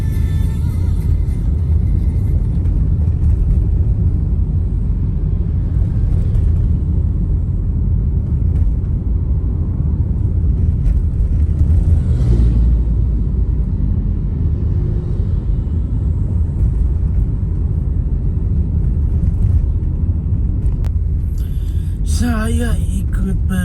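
A newly bought Honda ADV motorcycle rides along a road, its engine and wind rumble holding low and steady throughout, with a brief higher whine near the end.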